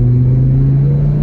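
Volvo 850 non-turbo engine droning steadily from inside the car while driving, a loud constant low hum with no voices.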